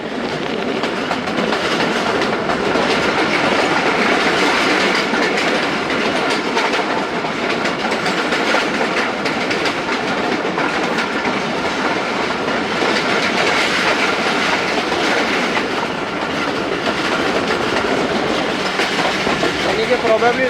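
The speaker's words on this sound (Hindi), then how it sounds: "सुबह के 9 बज रहे हैं और नसीरपुर रेलवे स्टेशन पास हो रही है ट्रेन" Khyber Mail passenger train rolling past Nasirpur railway station on the Multan–Peshawar line, a steady loud rumble with continuous clickety-clack of wheels on rails for the whole stretch, heard from inside the moving AC business coach.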